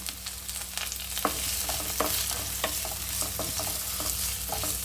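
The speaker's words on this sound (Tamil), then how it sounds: "கொஞ்சம் ஹை ஃப்ளேமில் வச்சு நல்லா வெங்காயத்தை வதக்கிக்கோங்க" Onions sautéing over high flame in a hot pan for egg kurma, a steady sizzle broken by frequent scraping stirs and clinks of a utensil, close by.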